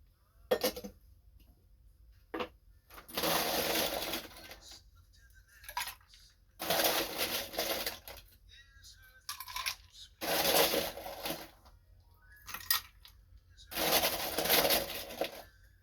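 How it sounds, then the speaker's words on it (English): Ice cubes are tipped into a glass for a Mai Tai cocktail in a dirty pour, rattling and clinking in several loud bursts separated by quiet pauses, with short sharp clinks in between. "adding that ice into there."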